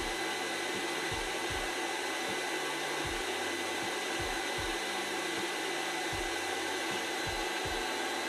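An induction heater runs steadily while heating a rusted nut, giving a constant broadband hiss and hum with faint low rhythmic ticking underneath, with no talk.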